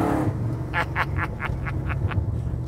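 A 1969 Chevrolet Camaro pro-street car with a 454 engine rumbles in low gear, a steady deep engine drone with a rhythmic pulsing throb running under it.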